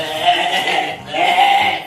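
A hypnotized person imitates a goat, letting out two long, loud, wavering bleats close up, with a brief break between them.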